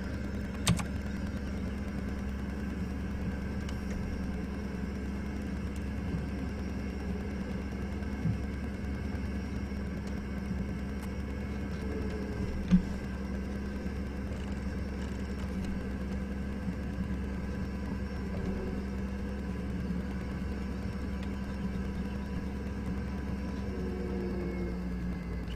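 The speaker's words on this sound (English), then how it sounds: "See how this tractor does in pulling this seeder." Tractor engine pulling a seeder in Farming Simulator 17 drones steadily at a low, even idle-like hum, fairly quiet and unchanging, with a few faint clicks.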